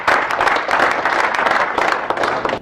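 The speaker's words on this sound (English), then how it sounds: "Give yourselves all a round of applause." A conference audience at a crowdfunding meeting breaks into sustained applause, many hands clapping densely and evenly throughout, fairly loud and close with no pause.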